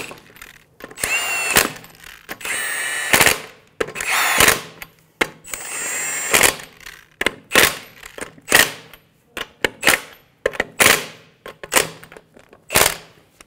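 A power tool drives the lug nuts onto a Honda Pilot wheel in a series of loud, close bursts of whirring and rattling impacts, with short gaps between them.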